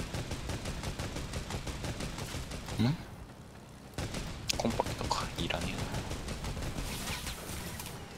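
Rapid, loud bursts of gunfire crackle almost nonstop in a Fortnite Team Rumble match, with only a brief lull partway through. Voices are faintly audible at times.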